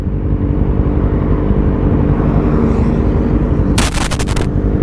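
Sharp burst of rapid exhaust pops crackles out of a sport motorcycle's engine drone during quickshifted upshifts, loud and close, in a roll-on race among a Honda CBR500R, Kawasaki Ninja 400 and ZX-25R.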